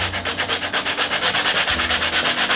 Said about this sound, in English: I think I might just use some sandpaper because I want it to be as snug as possible